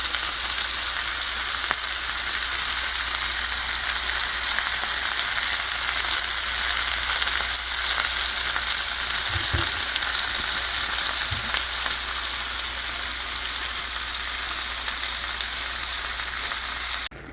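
Meat, onions, peppers and mushrooms for a Philly cheesesteak sizzle in a pan, an even, unbroken hiss that runs throughout with a couple of soft low bumps near the middle.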